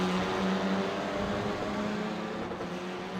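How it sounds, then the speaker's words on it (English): Race car engines in a GT3 sim racing game drone steadily and loudly at a fairly constant pitch, a continuous broadband roar with no talk over it. "You can hear the engines roaring as we head into turn number 1"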